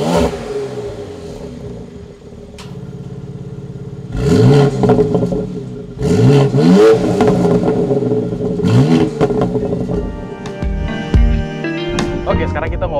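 A BMW X4 M Competition accelerates while driving, its engine note climbing in a few strong surges, with a person talking inside the car between and over the pulls.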